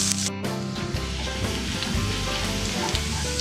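Crushed garlic sizzles and fries in hot coconut oil, a steady close crackle with a few stirring scrapes throughout.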